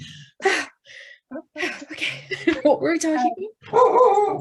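A pet dog barks and yips in short bursts close by, breaking in over several people talking in a conversation.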